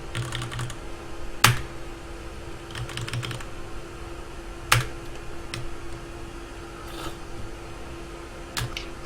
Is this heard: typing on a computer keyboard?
yes